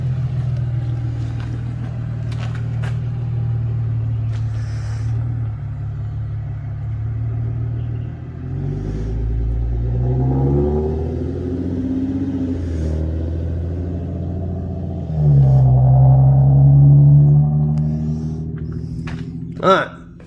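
An Infiniti G37's loud engine rumbles steadily, then rises and falls in pitch as it revs, swelling into a strong close roar before fading away.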